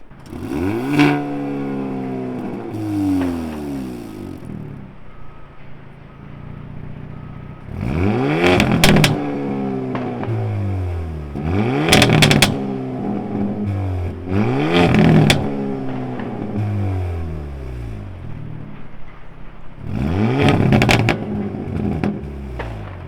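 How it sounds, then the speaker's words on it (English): A stock exhaust on a Hyundai Elantra N revs repeatedly in sharp, loud bursts, climbing and falling in pitch several times over a steady idle, heard close up with no talking. "us car enthusiasts really love the way this exhaust sounds stock"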